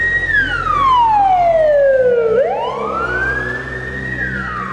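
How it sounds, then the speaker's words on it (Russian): An automatic fire alarm siren sounds in a school during an evacuation drill. It is a loud, continuous electronic wail that sweeps down in pitch and then climbs back up, with no talking. "внезапно раздался звук автоматической системы сигнализации и оповещения о пожаре"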